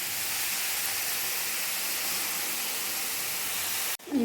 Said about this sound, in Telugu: 3-4 స్పూన్స్ ఆయిల్ హీట్ చేసుకొనేసి కడాయిలో వేసుకొని ఇప్పుడు ఆవాలు వేసుకుంటాము.